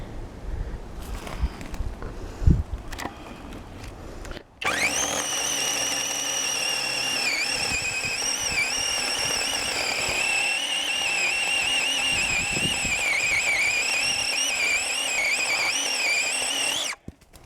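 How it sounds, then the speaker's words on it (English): A chainsaw runs at a steady high-pitched whine for a long stretch, its pitch wavering slightly as it cuts wood in the woods, after a few seconds of clattering handling. "Good old trusty chainsaw."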